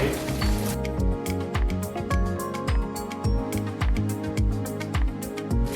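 Gnocchi shallow frying in oil, a loud steady sizzle close up, broken by repeated clinks and scrapes of a utensil turning the pieces in the pan.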